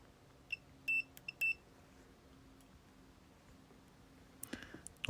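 A circuit board from a Marlec Solar iBoost unit under repair gives several short, sharp electronic beeps in a quick cluster, then falls quiet apart from a faint hum, with a few soft clicks near the end.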